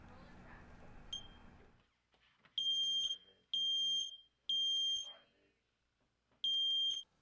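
A household smoke alarm sounds four loud, piercing beeps in an irregular rhythm, each about half a second long, following a brief stretch of low background noise.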